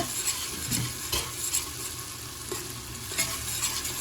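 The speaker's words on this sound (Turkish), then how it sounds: "Soğanlar iyice kızaracak" Chopped onions fry in a mix of butter and oil, giving a continuous close sizzle. A few stirring scrapes break through it, with no voices.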